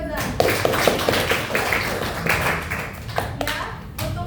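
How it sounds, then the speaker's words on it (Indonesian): A small class claps for a student, scattered uneven hand claps and taps mixed with voices talking over them. "Tepuk tangan buat Fiona"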